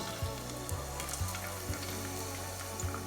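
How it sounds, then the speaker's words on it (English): Thyme leaves and garlic sizzle in hot frying oil in a pan readied for red snapper, a steady close hiss broken by a few soft low knocks, with no talking. "I'm ready to fry my red snapper fish"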